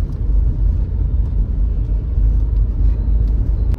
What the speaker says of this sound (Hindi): लेफ्ट साइड में एकदम भयंकर ट्रैफिक है